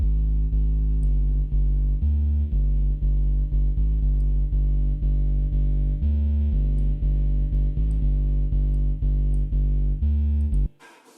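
A music track in progress with a room reverb effect applied, steady pulsing beats and sustained tones ringing out with a lingering tail, then cutting off abruptly near the end.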